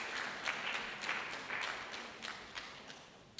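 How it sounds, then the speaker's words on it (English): A council audience claps at a municipal state-of-the-municipality address in Walter Sisulu, a fairly faint, distant patter of many hands with a few sharper individual claps standing out. "you can give yourself a round of applause"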